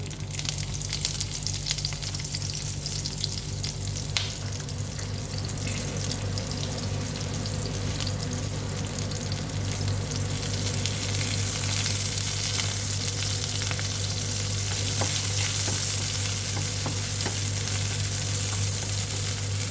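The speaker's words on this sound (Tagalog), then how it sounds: "So, palambutin lang natin kunti ang onion mga karosas." Onion sautés in a pan for ginisang papaya, a continuous close sizzle with occasional stirring scrapes, a low steady hum running underneath, no talking.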